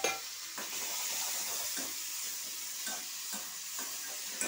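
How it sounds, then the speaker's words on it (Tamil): Steady sizzling of onions sautéing in a pan, with a few soft scraping stirs against the pan and no voices. "வெங்காயத்தை நல்லா வதக்கிட்டு இருக்கும் போதே"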